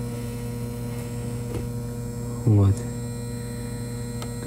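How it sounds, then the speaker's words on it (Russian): A refrigerator compressor gives off a steady, loud low hum that runs without break, with someone briefly speaking over it. "Компрессор гудит."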